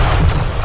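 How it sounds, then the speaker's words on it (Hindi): A loud, deep explosion from a detonator-triggered blast among cars, heard as a brief roaring boom with heavy low rumble that stays strong throughout the short burst. "विस्फोट होता है"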